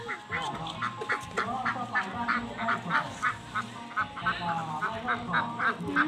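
Ducks quack repeatedly in a steady rhythmic chorus at a rural village festival in Thailand, fairly close and clear, with faint voices and background activity beneath.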